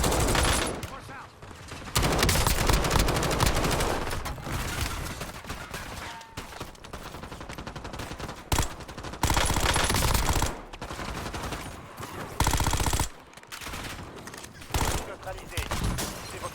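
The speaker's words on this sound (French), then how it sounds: "Je subis les tirs." Warzone video game gunfire, bursts of rapid automatic shots striking the player, loud and dense in several volleys with short gaps between them.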